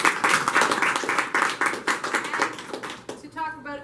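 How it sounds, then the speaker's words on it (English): A room of user group attendees gives a brief round of applause for a sponsor, dense steady clapping up close that fades out after about three seconds as a voice begins. "so give them a round of applause"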